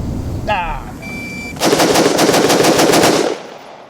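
A rapid string of roughly ten rifle shots from an IWI X95 Micro rings out loud and close on a shooting range drill, following brief electronic beeps from a shot timer.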